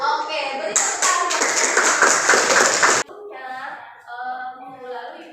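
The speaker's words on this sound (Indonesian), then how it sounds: "beri tepuk tangan" A classroom of students claps together in a loud burst of rapid clapping lasting a couple of seconds, stopping abruptly before a teacher's voice speaks.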